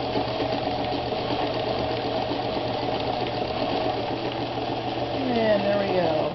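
A Japanese-made Sewmor sewing machine stitching steadily, its fast even needle chatter and motor hum running close and continuous, rising slightly toward the end.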